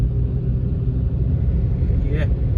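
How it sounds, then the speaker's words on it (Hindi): A Volkswagen Polo 1.6 pulls in fifth gear at low speed on a highway, a loud, steady, low engine and road rumble heard from inside the cabin without a break. "5वें गियर में हूँ, 40 तक आ गया था मैं 5वें पे ही खींचते हुए"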